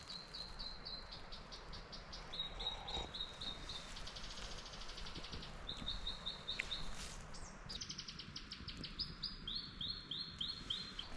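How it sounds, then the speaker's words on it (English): A robin sings in the Cobb Valley on a rainy camping hike, with faint, distant repeated chirping phrases over a constant hiss of insects and damp outdoor ambience. "It's the sound of a robin."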